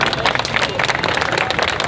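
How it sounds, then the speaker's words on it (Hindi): Audience at a political rally bursts into dense, loud applause, a continuous wash of clapping that fills the whole short stretch, with some crowd noise mixed in. "यहाँ तालियों पे पाबंदी नहीं लगा रखा है"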